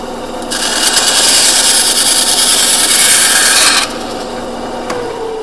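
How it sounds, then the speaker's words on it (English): A 3/8 inch aluminum fuel tube is cut through in one continuous rasping, scraping pass of a few seconds, loud and close, which then stops abruptly and leaves a quiet room with no speech. "And I'll cut this scrap piece of tube. This is just 3/8 inch fuel tubing, aluminum tube."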